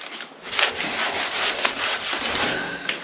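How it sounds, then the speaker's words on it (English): Cloth with sugar soap wiped over a radiator, close soft rubbing strokes in a brisk back-and-forth rhythm with occasional light knocks. "Sugar soap on a cloth. Give your radiator a proper good clean off."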